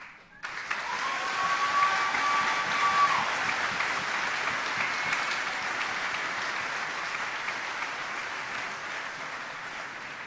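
A large audience at a high school graduation ceremony breaks into sustained applause that swells quickly and holds steady, a dense wash of clapping over about ten seconds.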